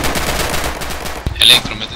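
Machine gun fire in the multiplayer war game Red Orchestra 2 comes as a rapid, loud burst of close gunshots, ending in a sharp crack and a ringing metallic tail.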